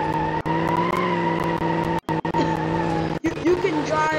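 A video-game car speeds the wrong way while racing, its engine droning steadily and loudly with tire squeals and skids breaking in near the end, while a voice talks over it.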